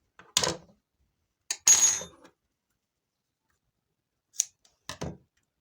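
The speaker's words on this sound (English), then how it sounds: "So I'm just going to cut here." Scissors snip through crochet yarn in a few short, crisp bursts spread across a quiet background, close and isolated with silence between the cuts.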